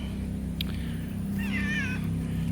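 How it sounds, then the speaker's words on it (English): A stray cat lets out a single clear, wavering meow near a house under remodeling, over a steady low background hum with a faint click just before it. "This is not our cat, technically, but he does hang out here and will never go away."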